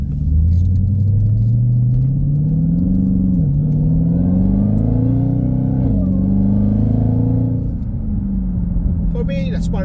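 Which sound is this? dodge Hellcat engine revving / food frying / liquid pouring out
dodge Hellcat engine revving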